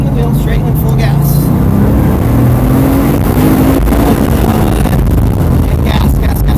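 Car engine at full throttle during a driving practice session, a loud, steady roar under heavy wind buffeting, strained and continuous throughout.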